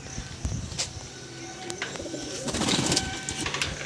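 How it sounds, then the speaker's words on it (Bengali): Giribaz pigeons coo repeatedly at close range, soft throaty calls coming in uneven bursts, with light chirps and background clatter around them. "এই দেখুন এটা লাল শিরা পায়রা"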